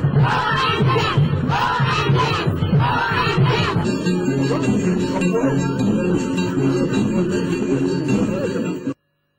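Street crowd greeting the visiting presidents of Mali, Senegal and Mauritania and the Guinean prime minister along the main avenues of the railway city, loud sustained cheering and shouting that cuts off abruptly at the end.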